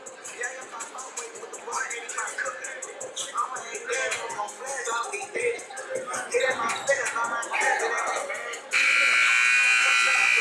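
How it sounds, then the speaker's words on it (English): A noisy crowd chatters and shuffles in a gym at a school basketball game, then a loud, sustained buzzer cuts in near the end and holds steadily. "And the buzzer sounds."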